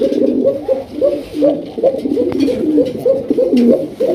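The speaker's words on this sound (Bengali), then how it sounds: "উপরে কোকা ডাকতেছে" Koka pigeons at a Bangladeshi pigeon farm give a continuous run of deep, bubbling coos, loud and close, the calls overlapping in quick rhythmic phrases.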